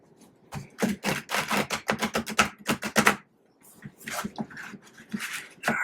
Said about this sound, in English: gonna have to shuffle this again